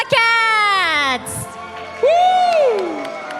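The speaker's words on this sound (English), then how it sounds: "we can see all the team members cheering for them" Esports team members at the Valhalla World Cup 2024 offline grand finals whooping and cheering loudly, with long rising-and-falling excited yells close by, a short break, then another drawn-out cheer.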